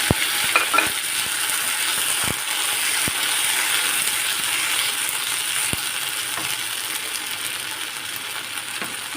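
Ground tomato, three tomatoes blended, goes into golden fried onions in a pan for paruppu urundai kulambu. A steady close sizzle follows, broken by scattered clicks and scraping stirs, and no one speaks.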